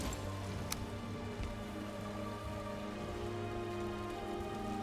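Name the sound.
rain falling in the video game Valheim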